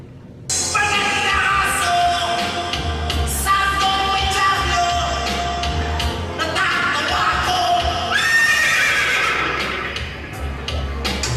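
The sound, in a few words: voice imitating a horse neighing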